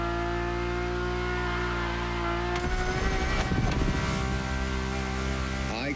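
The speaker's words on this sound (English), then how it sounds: "And the car's voice sounds even better from inside." A sports car in the video game The Crew Motorfest holds a steady, sustained engine drone with a harmonic hum, then shifts mid-way as the pitch changes and rises again toward the end.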